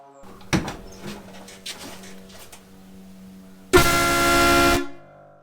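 A loud air horn on a Jeep XJ blasts once for about a second, preceded by a few soft clunks and a low hum.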